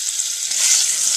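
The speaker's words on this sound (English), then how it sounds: "I'm just going to add my yuca and kind of stir fry it." Yuca pieces stir-fried in hot, bubbling oil while cooking mafe, a peanut butter stew, give a steady, close sizzle and crackle that holds for the whole moment with no talking.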